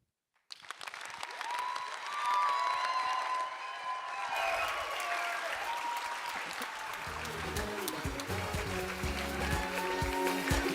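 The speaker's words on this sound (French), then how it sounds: "Un tonnerre d'applaudissements pour Siméon." Audience applause for speaker Siméon Evina at the 2024 FestiPREV youth event, a sudden burst of clapping that swells and sustains, with cheering whistles and crowd voices mixed in, growing louder and busier toward the end.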